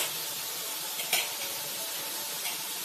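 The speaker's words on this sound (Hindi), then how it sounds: "तेल हमारी गर्म होगी, उसके ऊपर छन्नी की सहायता से तेल में डालेंगे गोल हम अपना" Boondi batter pours through a strainer into hot oil and sizzles in a steady, bright hiss. A brief louder crackle spikes partway through, with no talking.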